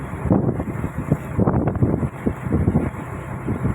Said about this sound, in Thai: ลมแรงคลื่นแรงก็ ทำไม่ได้